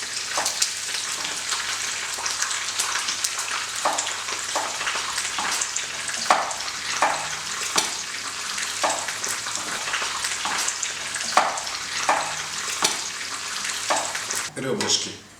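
Pork ribs searing in a hot pan while cooking plov, a steady loud sizzle and crackle with repeated sharp spatters and stirring scrapes throughout, no talking.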